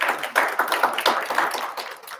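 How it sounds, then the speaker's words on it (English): An audience applauds at a government social media summit, a brief patter of many hands clapping at a moderate distance, steady and even. "I think that deserves a round of applause"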